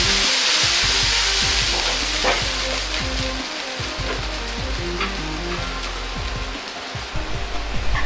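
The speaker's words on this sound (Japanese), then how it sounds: "タレを鍋に入れ、ひと煮立ちさせる。" Sauce bubbles and sizzles steadily in a pot as it comes to a boil, a continuous close crackling hiss with no voices.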